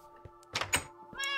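A cat mob in the video game Minecraft meows once or twice, short and fairly quiet, with a couple of soft in-game thunks around it and no talk.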